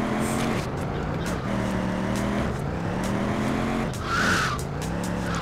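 A car driving in GTA 2 keeps up a continuous engine drone with tire skids and squeals, steady and loud throughout with no talking.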